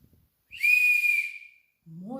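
A traditional Ukrainian clay bird whistle toy (svyshchyk) gives one clear, steady, high whistle lasting about a second, then a voice begins just after it fades.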